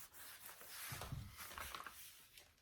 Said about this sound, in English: And then I'll wipe it down again